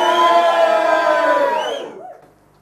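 A room full of audience members at a Brighton political debate cheers and whoops for the Green Party in one loud burst that dies away within two seconds.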